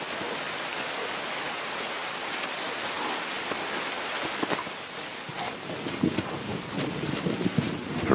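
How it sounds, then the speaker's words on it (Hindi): Heavy rain hisses steadily across flooded plains, a dense wash of noise mixed with gusty wind, and heavier spatters and splashes come through toward the end. "लगभग हर दिन तेज बारिश हो रही है।"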